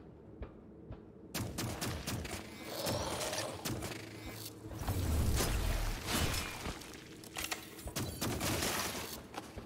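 Gunfire from a gun in the game Dolmen, heard as a run of sharp, loud shots in quick irregular bursts, close up, mixed with clanking mechanical noises and a deep rumble partway through.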